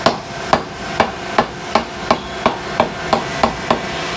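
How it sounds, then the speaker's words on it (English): A hammer taps a metal part into lathe chuck jaws with about ten sharp, evenly spaced knocks roughly every half second, close and crisp over faint shop background, with no speech. "We're going to just snug the jaws up and then tap it in with the hammer."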